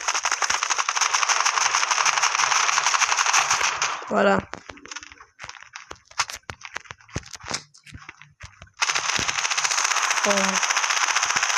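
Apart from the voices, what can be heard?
gunfire in the video game Standoff 2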